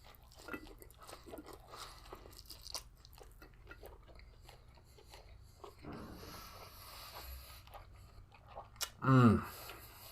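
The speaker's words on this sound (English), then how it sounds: "Let's just go in for a bite." Chewing and biting into an Italian beef sandwich piled with meat, close moist mouth sounds and soft crunches running throughout, with a louder burst near the end and a voice murmuring in between.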